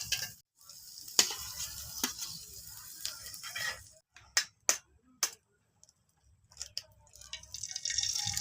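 An egg fries in a pan, a faint steady sizzle broken by short gaps and a few sharp clicks and taps of a utensil against the pan.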